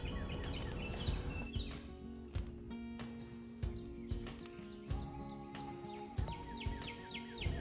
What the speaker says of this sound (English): with the birds chirping in the background